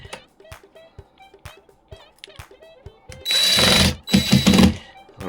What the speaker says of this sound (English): I'm going to risk it for a biscuit and put all the screws in